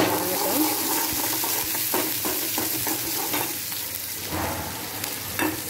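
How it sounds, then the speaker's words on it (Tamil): Onions sautéing in oil for a drumstick-leaf adai, after mustard seeds and cumin have popped. A dense, continuous sizzle runs throughout with soft stirring scrapes. "அதுக்காக தான் வெங்காயத்தை வணக்கிறேன் நான்"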